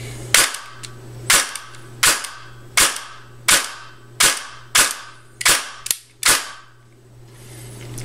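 Airsoft AK47 Spetsnaz rifle firing on semi-automatic from a 7.4 volt battery: eight sharp, loud single shots at a steady roughly one-per-second pace, each with a crisp snap, over a faint constant motor hum.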